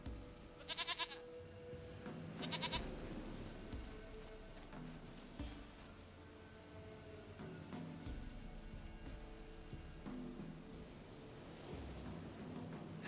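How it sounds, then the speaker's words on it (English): A goat in The Witcher 3: Wild Hunt bleats in a couple of short, quavering calls early on, set against soft game ambience and faint rain. "Goat of mine, dearest, sweetest goat"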